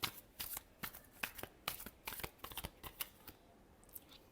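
Quiet, close shuffling of a tarot deck, a quick run of papery snaps and flicks at an uneven rhythm that thins out toward the end.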